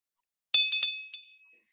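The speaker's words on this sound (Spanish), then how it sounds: "tienes que buscarte una campanilla así" Small glass handbell rung a few times in a parliamentary session, bright high ringing strikes in a quick cluster followed by one more, each leaving a clear fading resonance in an otherwise silent room.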